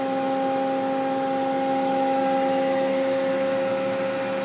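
A Mazak QT-20 CNC lathe spindle runs at 1,000 RPM with a steady, even mechanical hum and clear whining tones. The sound is moderately loud and close throughout, with no speech.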